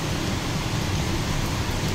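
Dense, steady rain pours down in a continuous hiss with no breaks.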